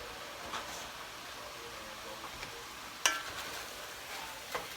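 Spinach cooks down in a pan with a soft, steady sizzle, light stirring and one sharp clink of a utensil, with no talking.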